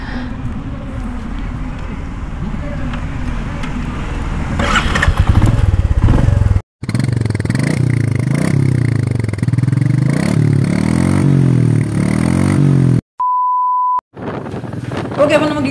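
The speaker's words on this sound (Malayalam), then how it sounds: "ഇതിൻ്റെ സ്റ്റാർട്ടിങ്ങിലുള്ള ഇതിൻ്റെ എക്സോസ് സൗണ്ട് നമുക്ക് നോക്കാം" A Royal Enfield Meteor 350 motorcycle is started, then settles into a loud, close, rhythmic thumping exhaust idle that briefly cuts out, with a short electronic beep tone near the end.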